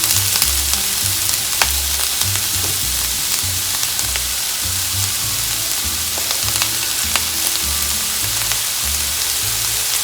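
Chopped onion, carrots and celery sizzle and crackle steadily in a hot pan, a loud, continuous fry with occasional stirring scrapes and no talking.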